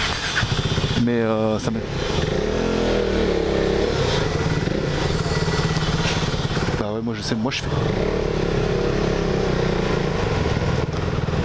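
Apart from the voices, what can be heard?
KTM Duke motorcycle engine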